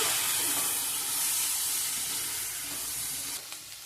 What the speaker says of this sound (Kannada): ಕಟ್ ಮಾಡ್ಕೊಂಡಿರೋ ಟೊಮಾಟೊನ ಹಾಕ್ಕೊತ ಇದ್ದೀನಿ ಈ ಟೊಮೊಟೊ ಹಾಕ್ಕೊಂಡ್ಬಿಟ್ಟು ಒಂದು ನಿಮಿಷ ಬೇಯಬೇಕು ನೀವು ಹಿಂಗೆ ಮಿಕ್ಸ್ ಮಾಡ್ತಿರ್ಬೇಕು